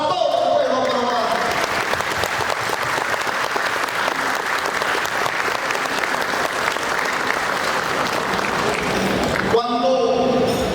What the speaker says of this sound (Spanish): un fuerte aplauso para todo el pueblo peruano